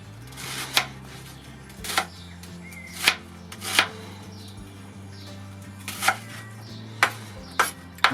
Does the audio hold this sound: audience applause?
no